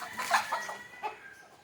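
Native country chickens cluck at the coop in the morning, giving a few short, close calls in quick succession before trailing off.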